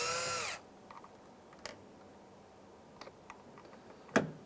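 Small Phillips screws come out of a 2003-2011 Honda Element front door handle: a brief buzzing whir at the start, then sparse faint ticks and clicks, with one sharper snap near the end.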